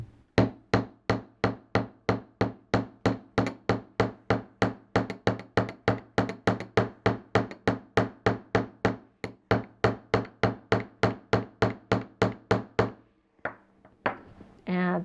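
A 3.5 ounce hammer strikes 12 gauge wire for jewelry making in a steady, rapid series of sharp metallic taps, about three per second, loud and close, ending with a few scattered knocks.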